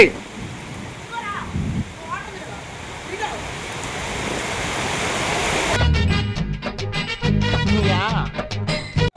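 Steady rain falls and splashes into collecting tubs as a broad hiss, then music cuts in over it about halfway through, with faint voices early on.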